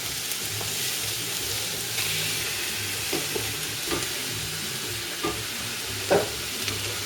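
Lamb meat sizzles on a bed of onions in a pot while a tajine is being made, giving a constant frying hiss with occasional stirring scrapes and knocks.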